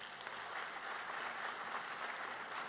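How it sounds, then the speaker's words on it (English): A crowd at a school Teacher of the Year celebration claps steadily in a continuous, fairly faint round of applause with no pauses. "let's give all of our teachers another round of applause."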